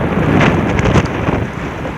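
Strong wind gusting hard across an open outdoor spot, a loud continuous roar with buffeting surges and rumbling microphone noise, no voices.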